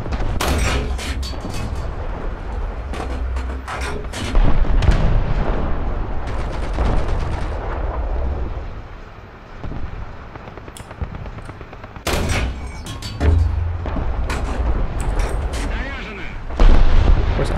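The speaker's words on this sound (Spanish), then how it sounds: "Aguanto bien los tiros." Heavy tank cannon fire and shell impacts in War Thunder realistic battles with the SMK tank near the sea, loud booming blasts and crashing hits in several bursts, with machine-gun crackle, under someone talking.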